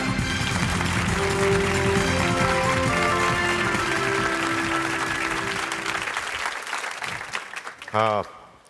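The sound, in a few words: audience applause welcoming a speaker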